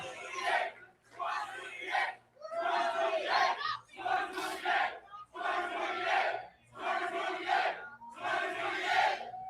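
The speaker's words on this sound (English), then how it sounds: "the crowd, chanting 2028 for Thomas Massey" A political rally crowd chants "2028" for Thomas Massie in seven loud, rhythmic shouted bursts, each separated by a brief pause, many voices yelling in unison with a roaring, echoing quality.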